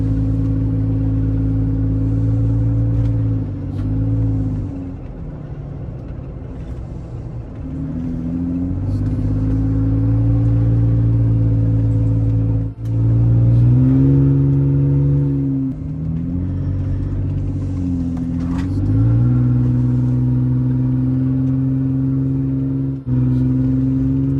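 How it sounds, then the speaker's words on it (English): A second-gen Toyota Tacoma's exhaust with the cutouts fully open while cruising on a road, giving a loud, steady engine drone whose pitch rises and falls with throttle changes, close and continuous throughout. "That was the exhaust fully open."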